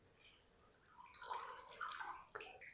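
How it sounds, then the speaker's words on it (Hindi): Water being drained off while preparing chicken popcorn in a kitchen, a faint trickling and splashing pour that swells and fades over a few seconds. "अच्छी तरह पानी को निकाल देना है।"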